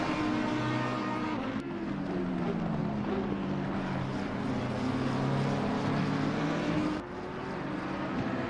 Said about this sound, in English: the number 87 car there of Zigo, who's catching the back marker BMW in front of him